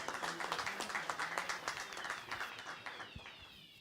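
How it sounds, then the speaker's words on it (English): Audience applause for a speaker taking the stage at a banking and finance event, a steady patter of many hands clapping at moderate distance, thinning out toward the end. "Let's give him some applause."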